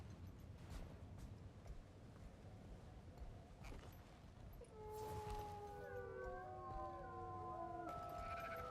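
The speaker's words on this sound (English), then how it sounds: "Hearing the wolves howl in the night." Wolves howl at night in the video game Guild Wars 2, with several long drawn-out tones rising and overlapping in the second half of the clip over a steady ambient game background.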